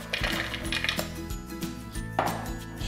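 Dried dates and pecans dropped into a plastic food processor bowl, giving a quick run of hard clinks and clatters, close and bright, with no talk.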